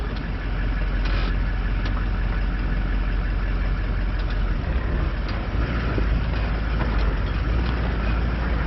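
A 4WD vehicle engine grinding along in low-range first gear over rough wilderness tracks, a steady loud drone with low rumble that stays constant throughout, no voices.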